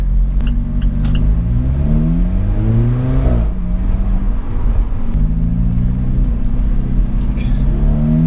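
A loud Alfa Romeo 4C Spider engine revs and accelerates, its pitch climbing through several gear changes, close and steady with no talking.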